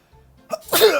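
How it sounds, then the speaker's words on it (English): A single sharp human sneeze, preceded by a short faint inhale, loud and close. "I'm gonna sneeze again."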